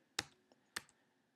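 A computer keyboard gives two crisp, close keystrokes about half a second apart in a quiet room, each followed by a faint lighter click.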